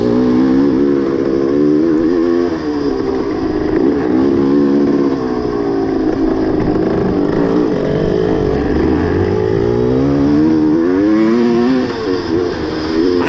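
A vintage motorcycle races hard over dusty ground in a vintage-class event, its engine loud and close throughout, rising and falling in pitch as it revs out in the lower gears and climbs toward third without a fourth gear.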